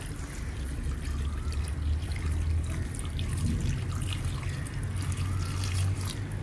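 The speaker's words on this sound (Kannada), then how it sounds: "ಇಷ್ಟು ನೀರನ್ನು ಹಾಕ್ತಾ ಇದ್ದೇನೆ" Water is poured steadily into a cooking pot to boil cassava roots for a mutton and cassava biriyani, a continuous close trickling splash over a low hum, with no talking.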